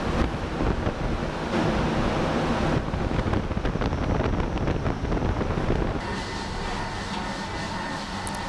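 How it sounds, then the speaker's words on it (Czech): A wind simulator at the IQ Landia science center in Liberec blows a strong, roaring gale steadily and loudly close by, with turbulent buffeting that shifts in tone near the end. "Vyzkoušet si sílu větru ve vichřici."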